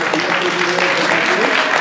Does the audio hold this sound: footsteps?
no